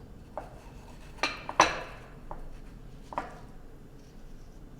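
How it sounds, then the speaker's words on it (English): Utensil mixing mashed guacamole ingredients and salt in a bowl, a few scattered scraping clinks and taps against the bowl, moderately close, with quiet gaps between. "just mix everything together"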